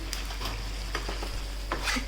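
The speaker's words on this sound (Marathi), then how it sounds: "छान अशी उकळीसुद्धा सुटलेली आहे आपल्या चिकनला" Green chicken curry in a pan with its lid just lifted, bubbling and sizzling while a utensil stirs it in a few scraping strokes, close and moderately loud with no talking.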